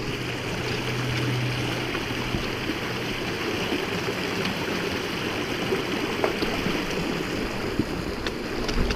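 A river flows past a trail crossing on the Eagle Rock Loop in Arkansas, a steady broadband rush of water heard up close, continuous and even, with no voices.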